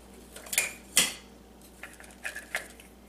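A Toaks 500 ml cook pot kit is handled, with light metallic clinks and clatters of pot and lid, a couple of sharper knocks among softer taps, close and otherwise quiet.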